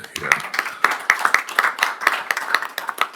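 A small audience at a transportation planning board meeting gives a round of applause, with sparse, distinct claps in an uneven rhythm and a voice briefly heard over them.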